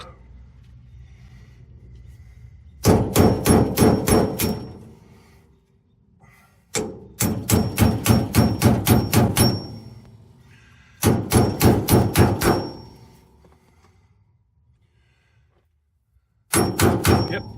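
A hammer strikes a punch to drive a suspension bolt out of a 1969 Dodge Charger in a yard; four separate bursts of rapid, loud metallic blows, about six to ten each, with quiet pauses between.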